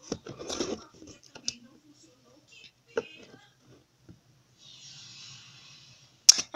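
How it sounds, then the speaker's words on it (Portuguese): Scissors snip through material for making a baby car seat, a few sparse close cuts and rustles with quiet stretches between them, and someone speaks briefly. "Mas eu vou cortar aqui."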